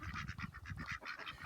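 Ducks on a small backyard orchard homestead quack in a rapid run of nasal, honking calls, faint and slightly distant, with no voices.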